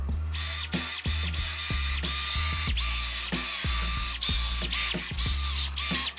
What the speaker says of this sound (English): I am going to go ahead and very carefully take this out with drilling some